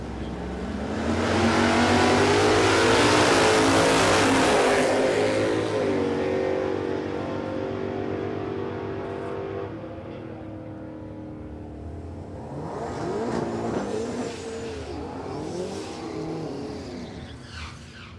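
Two street-class drag cars, a Holden HZ and a less powerful Holden HG wagon, launch at Warwick with a loud roaring engine note that peaks, fades into the distance, then swells again briefly. No one speaks over it.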